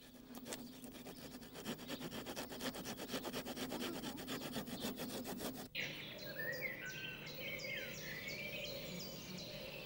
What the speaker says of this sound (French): la scie sera indispensable, notamment pour les branches de fort diamètre